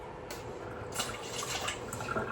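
About one and a half cups of water poured into a bowl for a sourdough starter mix, a close, continuous splashing trickle with small drips that rises slightly partway through.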